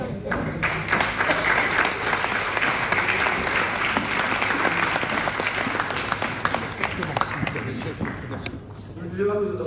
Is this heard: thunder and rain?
no